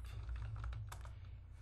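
Quick keyboard clicks tap out a short run of typing, soft and close, over a low steady hum.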